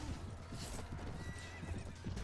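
Horses clip-clop and gallop with repeated whinnies and neighs during a mounted battle in the video game Prophecy of Pendor, dense hoofbeats running continuously throughout at close range.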